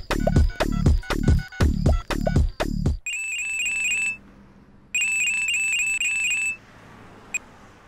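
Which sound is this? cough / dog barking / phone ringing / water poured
phone ringing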